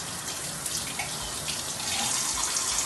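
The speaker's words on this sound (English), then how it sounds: "I'm gonna use a paper towel to open my faucet and adjust the temperature" Tap water runs steadily from a faucet as hands are rinsed under the stream, a close, continuous hiss and splash with slight fluctuations and no talking.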